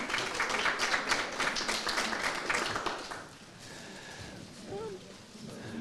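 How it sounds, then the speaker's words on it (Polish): Applause at an award ceremony for a school history and nature competition: dense clapping fills the first half, then fades under a voice speaking over the quieter room. "Zapraszamy, brawa."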